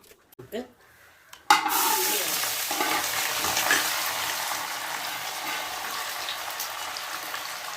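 Mustard seeds dropped into hot oil in a pan for a prawn roast, breaking into a sudden loud, continuous sizzle and crackle after a few soft knocks, close up and steady.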